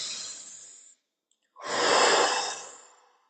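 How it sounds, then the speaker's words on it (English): A slow, deep breath out is followed by a short silent pause, then a long, full breath drawn in and released, close and clear with no talking. "Sit down with me and breathe one more time."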